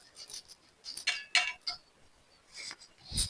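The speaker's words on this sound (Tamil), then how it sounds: "இப்ப நான் வறுத்த அரிசியையும் ஒன்றா கலந்து கொள்ள போறேன்." Roasted rice is mixed in a pot while making ulutham kali, producing soft, close, scattered scrapes and light clinks of a utensil against the pot, with brief pauses and no talk.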